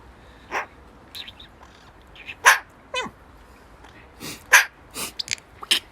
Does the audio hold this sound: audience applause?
no